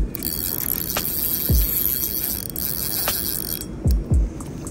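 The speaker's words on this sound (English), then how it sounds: "I'm gonna reel this one in." Fishing reel at a spillway, heard up close as a fish is wound in. Steady mechanical whirring hum runs throughout, broken by a few sharp low thumps near the end.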